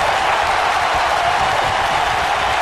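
A wrestling crowd in Sacramento roars and applauds during a cruiserweight tournament match, a loud, steady wash of cheering and clapping that fills the arena without pause.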